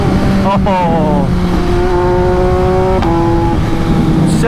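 An MV Agusta Brutale 800 RC motorcycle engine revs loud and close, its pitch sweeping up through gear changes with a steady roar underneath, while someone talks over it.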